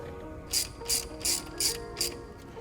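A ratcheting wrench tightens a banjo fitting on a braided turbo oil line of a Subaru STI, giving five short, evenly spaced bursts of close clicking over a quiet background.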